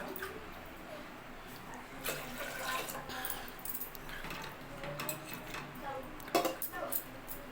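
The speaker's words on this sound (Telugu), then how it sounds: "ఇలా ఒకసారి అయితే వాటర్ వేసుకొని కడగాలి పప్పుని" Water sloshes and splashes softly as lentils are rinsed and swirled by hand, with occasional light clinks against a container.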